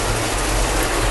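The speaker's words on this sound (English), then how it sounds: "It's raining so bad." Heavy rain pours down in a loud, dense, unbroken wash of noise that fills the whole moment, with no voices present.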